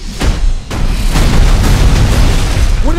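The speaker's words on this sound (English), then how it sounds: "What did I tell you? Minimal explosions." A loud, close explosion in a movie action scene opens with a heavy boom, then roars on with rumbling blast debris for a few seconds.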